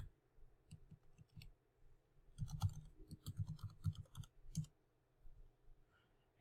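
Quiet clicks of a computer keyboard, a few scattered taps followed by a faster burst of typing in the middle, then tapering off, close and faint.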